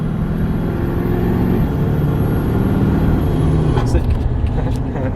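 A deleted Cummins diesel in a Nissan Titan XD pickup rumbles steadily with a low, throaty drone and a faint whistling intake, heard continuously at close range while a person speaks over it.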